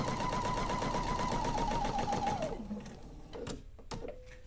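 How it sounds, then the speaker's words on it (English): A sewing machine runs steadily at close range, stitching a quarter-inch seam along a quilt strip with a fast, even mechanical hum, then slows and stops, followed by a few faint handling clicks. "now I'm going to sew with that perfect 1/4 inch seam. So then I'm just going to sew this along."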